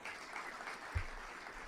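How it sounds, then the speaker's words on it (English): A quiet round of applause from an audience at an evening event at the Crystal Bridges museum, a faint steady patter of clapping with one soft thump near the middle. "Please give them all a round of applause."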